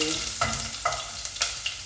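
Garlic stirred in a pan over medium heat for a Vietnamese chicken stew (gà kho), a steady close sizzle broken by several scraping stirs of the utensil.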